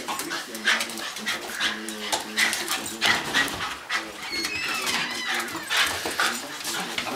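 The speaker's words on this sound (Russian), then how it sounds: "Как мы уже гавкаем красиво." An excited pet dog whimpers, yips and gives short barks in irregular bursts, close by, while a person speaks over it now and then.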